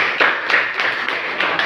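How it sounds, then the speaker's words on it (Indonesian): Classroom clapping for a student group during a group presentation session, a short burst of steady, fairly close hand claps filling the whole moment without talk. "Oke, tepuk tangan dulu kelompok 3."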